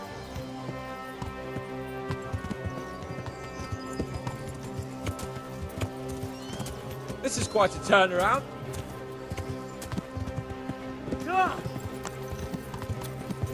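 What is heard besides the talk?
horse galloping in a video game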